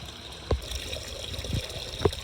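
Faucet water runs into a bucket with a soft, steady trickle, broken by a few brief splashes about a second apart.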